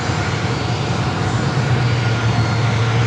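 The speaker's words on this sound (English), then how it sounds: "the Lufthansa A350 there on Bravo, still making its way down to 27" A Lufthansa Airbus A350 taxis toward runway 27 at San Diego, giving off a steady engine drone with a low tonal hum throughout.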